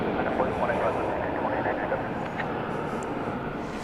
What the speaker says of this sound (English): To bring you the arrival of the Lufthansa flight